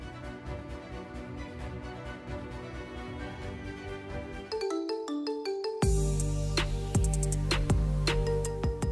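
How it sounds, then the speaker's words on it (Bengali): A mobile phone ringtone plays loudly on its own, a repeating melodic tune that shifts into a brighter, louder repeating pattern partway through, with no talking over it. "এই সময় হামিদের ফোন"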